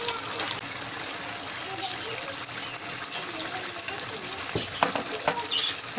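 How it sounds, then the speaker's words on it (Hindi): Green chillies coated in masala fry in ghee with a bubbling sizzle and wet crackle, punctuated by scraping stirs and a few sharp pops, close up, with a voice speaking intermittently. "एक मिर्च को उठा के हम इसको घी में डालेंगे"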